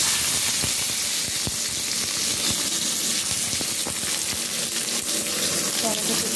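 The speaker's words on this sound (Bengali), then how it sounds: "তুলে কালো জিরে ফোড়ন দিয়ে দিলাম, আর দিয়ে দেবো একটু টমেটো কুচি" Nigella seeds and chopped tomato sizzle steadily in hot frying oil, a dense close crackle with scattered sharp pops running throughout with no speech.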